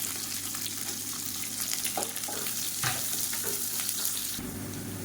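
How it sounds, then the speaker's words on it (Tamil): Mustard seeds, fennel, curry leaves and chopped onion fry in hot oil for a tomato gotsu, giving a steady close sizzle with small crackles and stirring scrapes throughout. "கடுகு வெடிக்க ஆரம்பிக்கும்"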